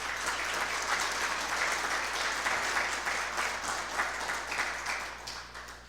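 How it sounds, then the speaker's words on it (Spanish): A church congregation applauds in praise, a dense, continuous wash of many hands clapping at moderate distance that holds steady throughout. "Denle un aplauso de alabanza al Señor."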